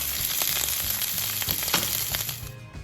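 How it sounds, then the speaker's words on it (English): Salmon searing skin side down on a really hot grill pan, a loud, steady close sizzle with crackling pops throughout that cuts off abruptly near the end. "Make sure your salmon is skin side down first on a really hot grill pan"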